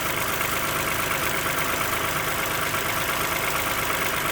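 A Toyota Sienna's 3.5L V6 2GR-FE engine idles while warming up, a steady, close, even rumble with a fine rhythmic pulse and no change in speed over a few seconds.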